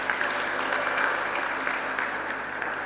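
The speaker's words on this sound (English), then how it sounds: "round of applause for that." A church congregation at a Methodist service in Barbados claps for couples celebrating anniversaries, a brief, even round of applause from many hands, fairly close and steady throughout.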